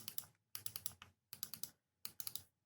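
A wireless Bluetooth keyboard is typed on in four short bursts of crisp, close key clicks, each burst separated by a brief pause. Nobody speaks.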